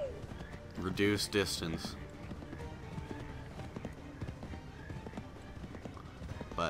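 Galloping horse hooves in the video game Assassin's Creed 3, a steady rhythmic clatter under game music and effects, with someone talking over it.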